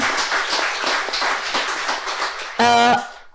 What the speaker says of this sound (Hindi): और जोर से ताली बजाएं, इतना अच्छा आपने अनुभव बताया